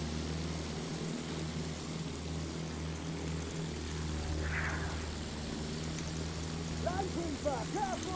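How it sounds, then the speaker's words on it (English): A propeller-driven warplane drones steadily through a First World War video-game battlefield, a low continuous engine hum swelling slightly midway, with faint voices and scattered game noises over it. "Enemy plane."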